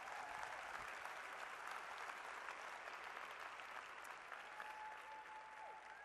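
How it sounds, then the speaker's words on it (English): A crowd at the opening ceremonies of a 2013 robotics competition regional gives a sustained round of applause, heard faint and distant as an even wash of clapping. "Let's give him a round of applause"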